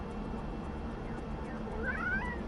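Noodle, a pet cat, gives a short, faint meow close by near the end, over a low background hum.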